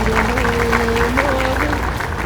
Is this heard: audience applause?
yes